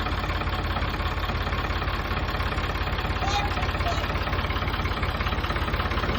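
A tractor engine runs hard outdoors while it pulls out a dead bush, a loud, steady, rhythmic diesel chugging that continues throughout without pause.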